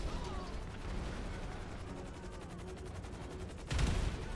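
Gunfire in a GTA 5 alien invasion of Los Santos chatters in rapid repeated bursts, fairly faint and distant, with a louder crash or blast near the end.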